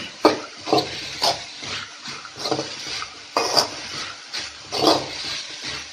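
A spoon scrapes and stirs through a chicken roll filling sautéing in oil with salt in a pan, repeating every second or so over a faint background sizzle.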